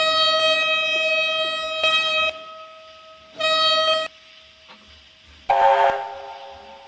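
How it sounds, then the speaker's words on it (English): A QJ steam locomotive's air horn in the Trainz game sounds in two loud sustained tonal blasts separated by a pause, followed by a shorter, harsher burst of a different horn with hissing. "Here's the air horn."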